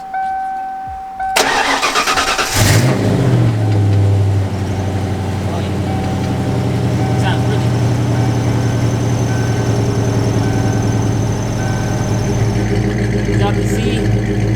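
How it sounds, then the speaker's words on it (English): A 1995 Ford Mustang Cobra with a Flowmaster exhaust cranks briefly, catches with a loud burst and a quick rev, then settles into a deep, steady idle close to the microphone. "crank it up for you guys. Let y'all hear it. Give it a couple revs."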